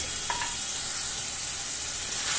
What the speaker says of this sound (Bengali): দিয়ে দিচ্ছি আদা রসুন পেস্ট,